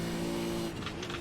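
Race car engine accelerating hard on a track, a loud, close steady drone whose pitch shifts near the end as the car changes speed.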